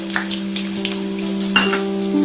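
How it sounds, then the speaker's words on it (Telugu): Tempering spices sizzling in hot oil in a pan, a steady close crackling fry with light pops and a couple of faint utensil taps, under a constant background hum. "దీంట్లో పోపు వేసుకుంటున్నాము."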